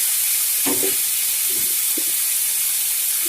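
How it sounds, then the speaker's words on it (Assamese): A fish curry with potatoes in a pot, stirred briefly with a few soft scraping knocks of the spoon over a constant bright sizzling hiss of simmering liquid, close by and with no voices. "এতিয়া মই এইখিনি অলপ লৰাই অলপ সময় সিজিবলৈ দিম"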